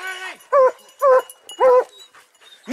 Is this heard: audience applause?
no